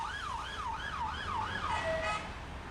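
Wailing ambulance siren from a private ambulance company arriving at a house in Leicestershire, its rising and falling tone sweeping steadily about five times before holding a short flat note, moderately loud over a low traffic rumble.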